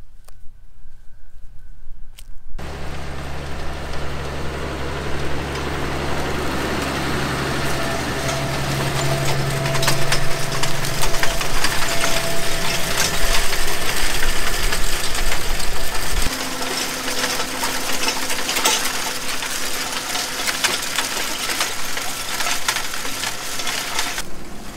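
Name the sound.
tractor pulling a Vart Agro roto-étrille rotary harrow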